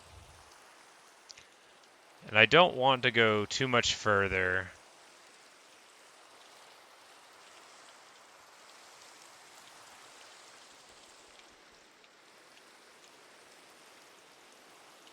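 Steady rain falls in the video game Minecraft, a soft, even hiss that continues for the whole stretch while someone speaks briefly near the start.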